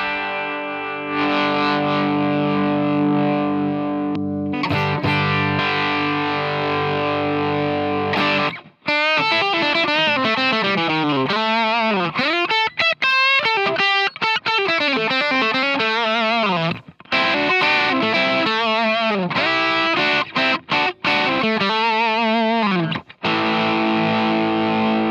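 An electric guitar runs through a Tube Screamer distortion in ToneStack Pro, sustained overdriven chords giving way to busy riffs and bending leads, loud and up close with no talking.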